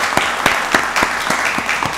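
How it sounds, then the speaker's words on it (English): Applause from an audience at a county board of commissioners meeting, with sharp individual claps standing out at a steady pace over a continuous patter of clapping. "Give her a round of applause."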